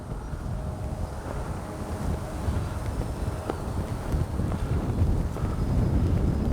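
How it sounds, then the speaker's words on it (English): Strong gusting wind buffets the microphone at an RC jet flying field, a loud, continuous low rumble and roar that swells and surges throughout with no pause. "Boy, is it windy."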